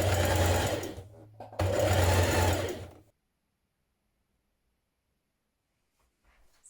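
Sewing machine hemming the bottom of a knit dress: two close, loud bursts of fast mechanical stitching, about a second and a second and a half long with a short pause between, followed by near silence.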